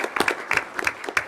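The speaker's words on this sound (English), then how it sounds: "So if we can give them a huge round of applause." A small group claps at a school board meeting, with a few distinct, uneven handclaps close by, briefly and fairly sparse.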